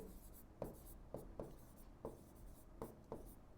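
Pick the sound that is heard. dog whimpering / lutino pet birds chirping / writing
writing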